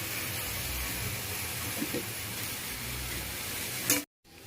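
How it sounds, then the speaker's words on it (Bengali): Sour chui fruit being stirred in a pan on the stove, with a soft steady sizzle and light scraping throughout, ending in a brief clatter. "ফলগুলি ঢেলে দিয়ে একটু নেড়ে ছেড়ে দিলাম।"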